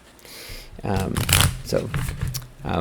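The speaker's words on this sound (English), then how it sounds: "I'm shuffling what sounds like two different decks." Two decks of tarot cards shuffling in quick, papery riffles and bridges, close by, with a low voice faintly audible underneath.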